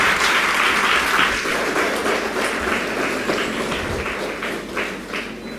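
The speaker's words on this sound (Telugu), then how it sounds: "చప్పట్లు కొట్టి దేవుని స్తుతిద్దాం." A church congregation claps in praise during a service, with dense, steady applause filling the room for several seconds before gradually thinning toward the end.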